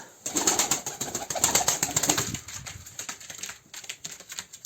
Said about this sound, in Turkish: Kuşları şöyle bir seslerini duymamız mümkün mü?